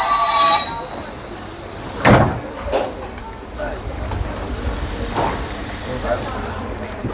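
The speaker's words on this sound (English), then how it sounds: "this train is super old indeed" Old Soviet-style Elektrichka electric train running in Bulgaria, a continuous rumbling interior ride with sharp squeals and clanks near the start and midway, and speech heard in the cabin.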